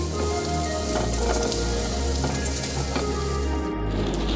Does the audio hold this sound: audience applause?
no